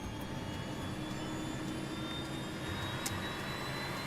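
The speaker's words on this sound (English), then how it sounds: "he records the sound of the engines from inside the cockpit" Constant roar of a jet airliner's engines during a test flight recreating Air Florida Flight 90, heard from inside the cockpit, steady and loud with a faint high whine and no voices.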